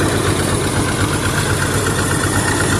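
An old 1970s tractor engine idles loud and close, a steady dense rumble that holds unchanged throughout with no talking.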